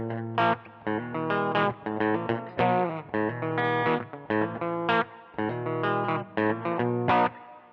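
Fender Mustang electric guitar, Cobain model, played through its bridge humbucker with heavy distortion, choppy chords and single notes cutting in and out in a stop-start rhythm, loud and close with no talking.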